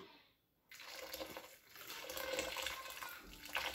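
Water poured from a container into a salad bowl of raw beef, about three kilos of meat and 1.5 litres of water, a close steady splashing that swells after a brief quiet start.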